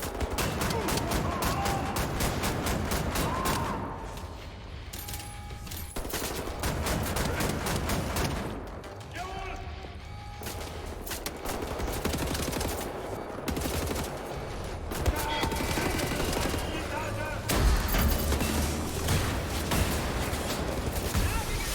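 Shotgun blasts and heavy gunfire from the video game Wolfenstein: The New Order, played on the hardest difficulty, come in a dense, continuous barrage with booming impacts, loud and close, over game noise.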